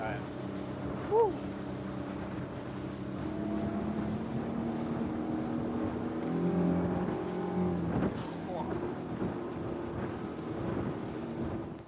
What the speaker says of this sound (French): de piloter cet Iron 707 avec ce moteur Suzuki